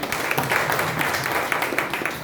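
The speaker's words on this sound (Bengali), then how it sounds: "জোরে একটা হাততালি চাই।" Audience applause fills a hall during a doctor's talk, a dense steady wash of many hands clapping with no clear pauses and no voices heard over it.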